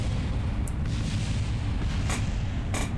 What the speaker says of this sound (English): And we have our Kerbal Space Program explosions.